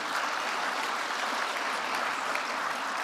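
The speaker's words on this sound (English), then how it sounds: "Please give a round of applause to the panel." An audience at a plenary session gives the panel a steady round of applause, dense and even throughout, moderately loud from a large hall with no talking over it.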